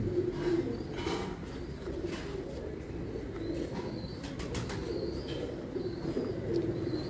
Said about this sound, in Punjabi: ਲੋ ਜੀ ਲਾਲ ਤੂਫਾਨ ਕਬੂਤਰ।